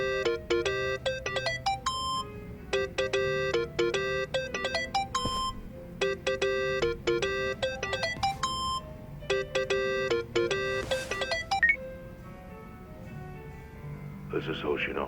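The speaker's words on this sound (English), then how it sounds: "Think that's your phone, man." Mobile phone ringing in Yakuza: Like a Dragon, a looping electronic melody of bright chiming notes repeating steadily for over ten seconds, then cutting off as a voice begins speaking near the end.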